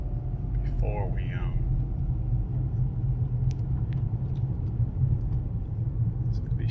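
A car with a CVT transmission driving, giving a steady low rumble of engine and road noise from inside the cabin, with a brief voice and faint clicks over it.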